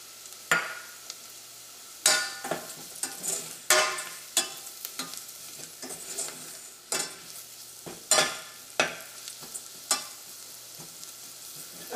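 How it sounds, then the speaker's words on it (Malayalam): Turmeric and spices fry in hot oil for a green peas curry, sizzling steadily while a spoon scrapes and stirs the pan in repeated sharp strokes, with no talking. "നമ്മുടെ മഞ്ഞപ്പൊടി എണ്ണയിൽ കിടന്ന് നന്നായിട്ടൊന്ന് മുരിഞ്ഞിട്ടുണ്ട്."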